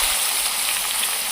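Onion paste sizzles in hot oil with garam masala, bay leaf and garlic paste while mince cooks with pointed gourd; a steady, close hiss of frying runs unbroken throughout, with no talk.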